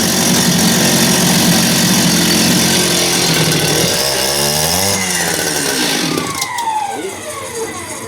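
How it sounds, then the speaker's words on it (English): Stihl TS400 cut-off saw engine cutting into wood, a loud steady two-stroke buzz that bogs and shifts pitch midway, then drops toward a lower, rougher idle near the end. "we'll try giving her a cut here, just in this wood"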